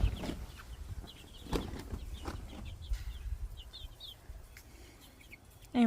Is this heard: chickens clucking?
yes